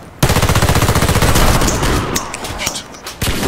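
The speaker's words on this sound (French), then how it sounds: "Moi j'ai tiré un peu à côté." Rapid sniper and gun fire from a video game clan war, loud sustained bursts of shots with a few separate sharp cracks after, no talk heard.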